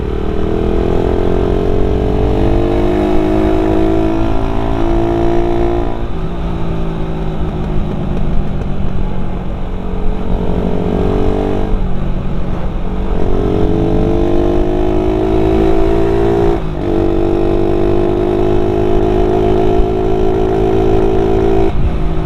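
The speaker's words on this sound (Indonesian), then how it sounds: "Suara khas Satria FU-nya lebih ger gitu kan." Suzuki Satria FU motorcycle fitted with a replacement worm-style exhaust header on a stock Barong muffler, revving in repeated rises and falls over a steady loud engine drone, close up with no talking.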